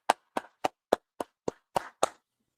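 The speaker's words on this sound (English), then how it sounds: "go ahead and clap it up" A small gathering in a Harlem meeting hall claps in a slow, evenly spaced rhythm, about eight sharp, distinct claps close by with silence between, no talking.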